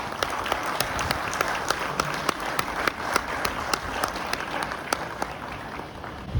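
Steady audience applause fills a college hall during a Teachers Day program, many hands clapping continuously at moderate loudness with a few sharper individual claps standing out.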